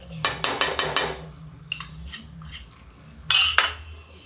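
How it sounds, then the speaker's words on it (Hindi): A spoon stirs curd into tinda (round gourd) curry in a pan: a fast run of five metallic clinks, a pause with lighter taps, then another burst of scraping and knocking against the pan. "इसको चलाते रहेंगे जिससे फटने ना पाए"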